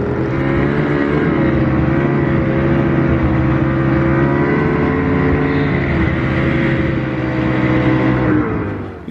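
A 2020 Ski-Doo Renegade XRS 850 snowmobile engine runs loud and steady at close range, holding a high droning rev with slight pitch shifts before easing off near the end, with no talking.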